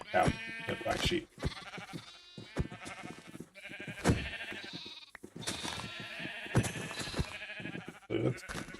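Sheep bleating repeatedly on a farm, several wavering calls in a row, close and fairly loud, with a voice speaking between and over them.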